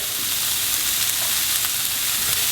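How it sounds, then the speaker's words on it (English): Half an onion frying in a hot pan gives a steady, close hiss of sizzling that holds even and unbroken from start to finish, with no voices over it. "Fry up half an onion, a little bit."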